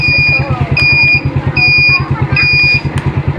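The turn signal buzzer on a Honda Smash 115 motorcycle beeps in a regular on-off rhythm, four clear tones over the steady rumble of the idling engine.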